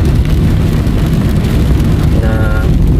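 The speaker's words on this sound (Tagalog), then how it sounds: "bumubuhos pa rin ang ulan sa oras na ito." Heavy rain pours down late at night, around eleven in the evening, as a loud, dense and unbroken wash of noise that holds steady throughout.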